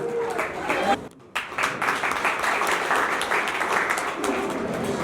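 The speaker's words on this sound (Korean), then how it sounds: "축하의 박수를 보내주시기 바랍니다" Congratulatory applause at a year-end party of the Ansan Chungcheong hometown association: a dense, steady crowd clapping that drops out briefly near the middle and then resumes just as full for the rest of the stretch.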